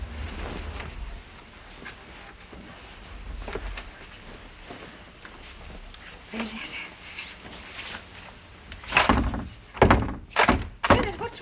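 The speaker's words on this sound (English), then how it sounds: "Can't get the door open." A stuck door is pushed and rattled during a smoke scare, heard as repeated thuds and knocks that grow louder toward the end, with people talking around it.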